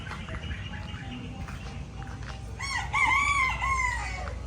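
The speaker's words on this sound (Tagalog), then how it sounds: "Oh, mga chickens na sa labas lang." Chickens outdoors near Way Kambas National Park in Sumatra, with a rooster crowing loudly and close over clucking and ambient outdoor noise.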